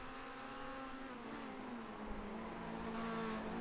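Touring race cars from a European touring car championship lapping Zandvoort in a racing game, a steady engine drone shifting pitch as the cars hold speed, loud and continuous with no talk.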